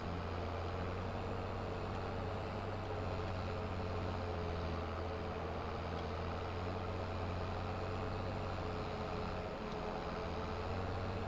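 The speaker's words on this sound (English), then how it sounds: "you're able to mow at a pretty good clip with this tractor." A tractor mows grass in a farming video game, its engine a low, steady droning hum with a continuous mechanical rumble, unbroken and fairly faint throughout.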